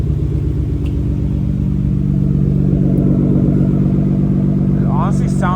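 Nissan Skyline R33 GTR fitted with a Tomei exhaust idling steadily, a loud, close, continuous low burbling rumble with no clear revs, plus a few faint chirps near the end.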